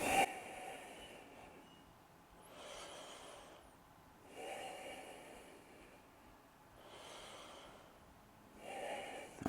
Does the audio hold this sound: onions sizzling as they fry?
no